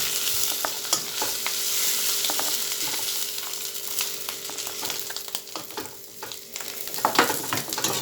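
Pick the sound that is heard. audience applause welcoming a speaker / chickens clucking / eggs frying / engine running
eggs frying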